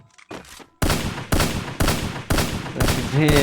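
Gunfire in the Free Fire mobile game: after a few faint pops, five loud, evenly spaced gunshot bursts crack close by, each with a short ringing tail.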